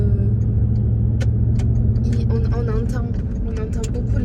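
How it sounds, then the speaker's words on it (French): Inside a Porsche Cayenne S on the move, the engine gives a steady low rumble under constant road noise. People talk over it throughout. "On entend beaucoup le moteur."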